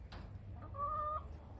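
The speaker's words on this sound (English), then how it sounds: "These chickens are funny." Backyard chickens on a Florida homestead give a brief, soft cluck followed by a thin, drawn-out call, heard close over a quiet background hum.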